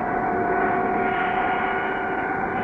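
A cartoon airplane engine straining as the plane fails to climb in a strong downdraft, a steady droning hum with a sustained tone, loud and continuous with no voices.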